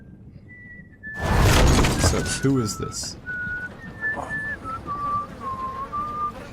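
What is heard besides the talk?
spooky whistling in Game of Thrones video game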